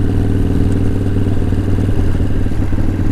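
A vintage Harley-Davidson Softail rumbles steadily while being ridden, its low engine drone continuous and loud with a faint mechanical clatter and no breaks.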